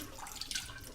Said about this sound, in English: Just to rinse a little bit, just to get rid of the old water.